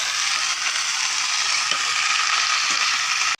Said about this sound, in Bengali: এই যে একবারে ফোড়ন দিয়ে দিলাম, 5 ফোড়ন দিলাম, একবারে দিয়ে দিলাম।